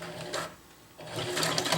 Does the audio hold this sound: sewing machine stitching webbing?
yes